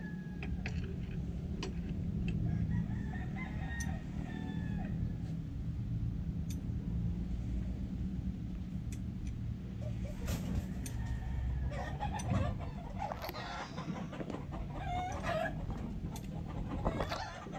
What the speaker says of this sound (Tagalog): Ganda ng background ko ah. Puro manok.